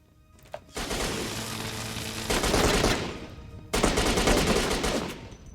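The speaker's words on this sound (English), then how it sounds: "The enemies have rocket launchers and automatic shotguns." Automatic shotgun fire from enemies in the video game Syphon Filter: The Omega Strain, rapid sustained bursts of loud blasts in two long volleys with a brief pause between.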